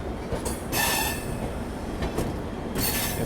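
Rajdhani Express train number 20505 standing at New Jalpaiguri station, with loud bursts of metallic squeal and hiss between steadier rumbling rail noise.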